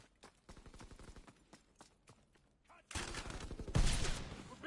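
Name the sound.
gunfire in Call of Duty WW2 video game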